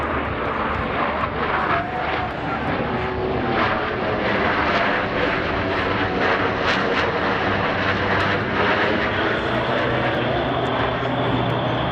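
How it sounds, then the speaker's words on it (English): Four US Navy Blue Angels F-18 jets flying a diamond roll at an airshow in Millville, a loud, steady, roaring jet drone that fills the air without a break, with faint crowd or announcer sounds underneath. "All 4 aircraft flying as one in this graceful 360-degree rolling maneuver."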